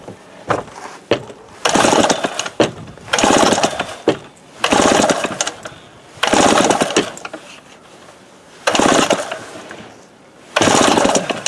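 A Remington Super 754 chainsaw, probably needing a carburetor kit, sputters in loud, close bursts of engine noise, roughly six attempts that catch briefly and die away between pulls.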